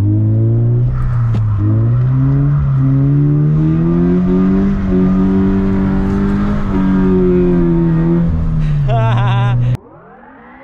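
Drift car revving hard and sliding around a wet, empty parking lot in the rain, a loud sustained engine wail that climbs and holds with shifting pitch, then drops to a brief squeal before cutting off abruptly.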